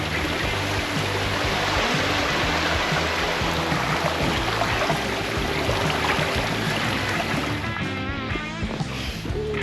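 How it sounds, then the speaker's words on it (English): Waterfall along the Appalachian Trail near Vogel State Park, a steady broadband rush of falling water heard from nearby, constant and loud with faint voices beneath it. "Wow, look at that waterfall up in there."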